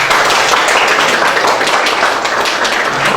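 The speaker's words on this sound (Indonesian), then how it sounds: "Tepuk tangan yang meriah." Lively classroom applause from a group of students, loud and continuous clapping with a slightly uneven rhythm, nearby and without speech.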